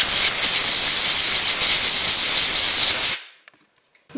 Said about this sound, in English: Using compressed air,